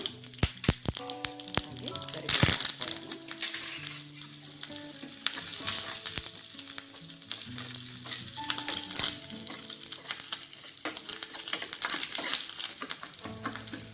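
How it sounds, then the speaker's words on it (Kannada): Mustard seeds spluttering and popping in hot oil for a chutney tempering, a dense crackling sizzle with sharp pops and stirring clatter, close and loud, carried on alone without speech. "ಚಟ್ನಿಗೆ ಒಗ್ಗರಣೆಗೆ ಎಣ್ಣೆ ಇಟ್ಕೊಂಡಿದ್ದೇನೆ. ಸಾಸಿವೆ ಹಾಕ್ಕೊಳ್ಳೋಣ"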